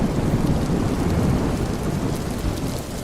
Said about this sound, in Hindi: और वर्षा होने लगी।